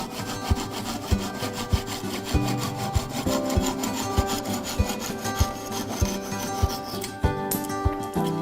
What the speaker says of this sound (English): these saws cut on the pull, hence the name pull saws